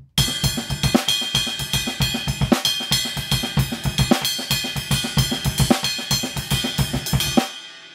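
A drum kit plays a drummer's groove from a song, with a doubled bass drum and backbeat under busy cymbals, loud and close, ending in a crash.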